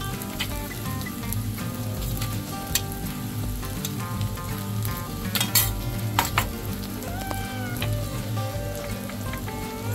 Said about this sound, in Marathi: आता हे सर्व मिश्रण छान हलवून घ्यायचं एकसारखं